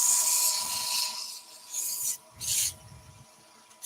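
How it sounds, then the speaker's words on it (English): Fine 240-grit sandpaper rubbing a turned wooden piece spinning on a lathe, soft hissing strokes in short bursts with pauses between them, faint over a steady low hum. "give it a fine sand. So let's go 240 just to denib"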